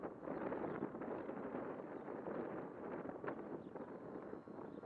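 Outdoor wind buffeting a microphone at an RC flying field where a small E-flite UMX Timber model plane is flying, a steady low rushing roar with soft gusty swells and faint rustle, no voices.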